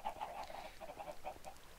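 Chickens cluck in the Minecraft video game, a soft, steady series of short clucks repeating through a piston-operated chicken farm build, quiet and with no talk over it.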